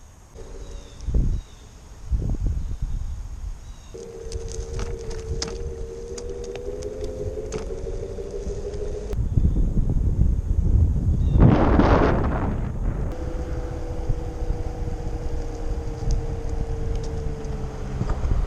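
A Jetson Ion electric scooter is ridden outdoors, its thin electric motor whine rising and holding over rough wind buffeting, with a loud gust of wind noise between two stretches of riding.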